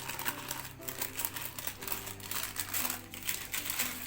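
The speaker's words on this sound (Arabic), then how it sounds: "اشيل بقى الورق كده" Baking paper peeled away from a homemade mango cake made with ordinary flour, a soft, steady crinkling and rustling over continuous background music.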